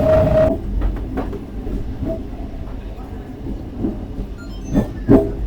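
The Barddhaman–Rampurhat MEMU passenger local rolls into Khana Junction with a low rumble of wheels, scattered clanks and clicks over points, and a sharper metallic knock near the end.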